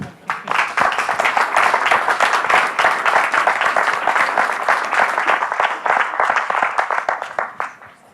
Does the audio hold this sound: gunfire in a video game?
no